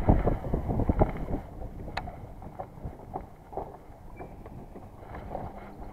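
Strong wind buffets the microphone on a fishing boat on a windy day, a loud, gusty rumble with knocks and thumps scattered through it.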